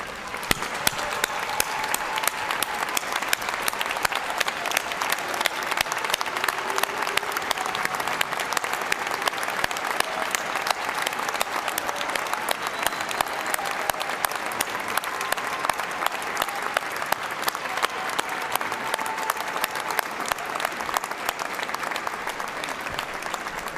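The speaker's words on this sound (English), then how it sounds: "Let's give him a round of applause" An audience at a university fall commencement ceremony claps at length, a dense, even roar of applause with scattered cheers, sustained and fairly distant.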